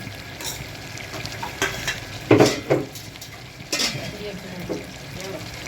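A spoon scrapes and clinks against a pot as mutton curry with mixed spice powder is stirred, with faint sizzling underneath and a few louder knocks.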